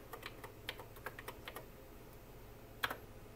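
Keys tapped on a TI-99/4A home computer keyboard, a quick run of soft, close clicks in an uneven rhythm, a brief pause, then one louder final keystroke, heard alone in a quiet room.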